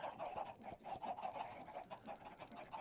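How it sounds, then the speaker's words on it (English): A flock of about a hundred egg-laying video game chickens clucks continuously in overlapping, rhythmic bursts, close and fairly loud with no talking. "Up here I've got about 100 chickens laying eggs"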